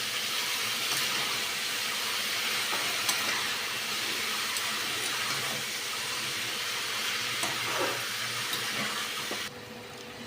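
Boiled cabbage with rohu fish head sizzles and fries in a pan, a steady close hiss that holds throughout and drops off sharply just before the end.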